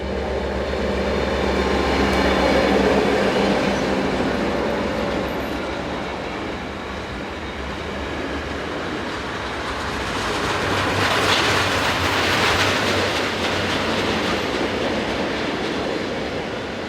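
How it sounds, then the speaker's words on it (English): Two Belgian Class 62 diesel locomotives hauling a maintenance train, a steady rumbling roar with low engine drone and wheels clattering on the rails, continuous and fairly loud throughout. "A lucky scene here as we catch 2 Class 62 diesels at work."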